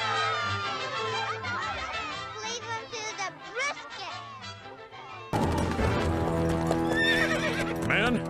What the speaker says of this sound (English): we ride to meet General Arnold and the Redcoats